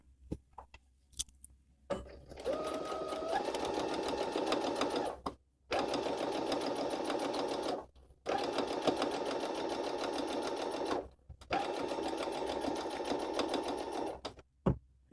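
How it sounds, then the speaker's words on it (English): Sewing machine stitching fabric in three sustained bursts separated by short pauses, with a steady rapid mechanical whir, close and fairly loud. "I'm going to go ahead and stitch."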